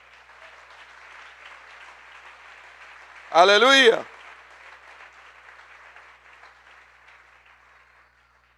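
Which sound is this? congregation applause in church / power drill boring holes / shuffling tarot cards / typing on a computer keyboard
congregation applause in church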